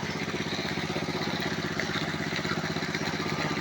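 Motor-driven water pump engine running steadily while filling a swimming pool about five feet deep, a continuous mid-pitched mechanical chug with rhythmic clatter, close and loud throughout with no talk.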